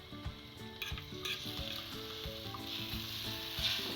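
Egg omelette frying in oil in a pan: a continuous close sizzle with a few soft spatula knocks and stirring scrapes, no speech.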